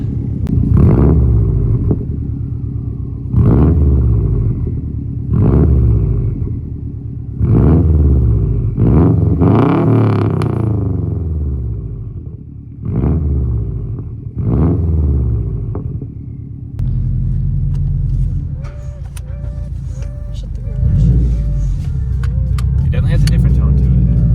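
A Subaru STI with a Tomei titanium exhaust revs repeatedly in sharp bursts, rising and falling, with speech heard between the revs and a steady idle rumble toward the end.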